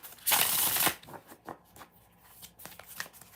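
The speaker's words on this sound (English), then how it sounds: "2 more shuffles" Tarot cards are shuffled in a riffle: one loud, dense burst of ruffling, then a run of softer taps and slides as the deck is squared up, close and clear.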